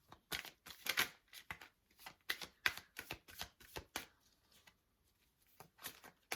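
Tarot cards are handled and flipped around, giving a quiet series of close, crisp snaps and shuffling slides in irregular bursts separated by brief pauses.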